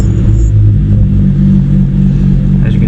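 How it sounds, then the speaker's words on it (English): Heavy, close engine rumble from a BMW 3 Series F30 running in a garage during an oil change, steady low droning that stays loud with slight surges as it settles toward idle. "So we're going to start the car up."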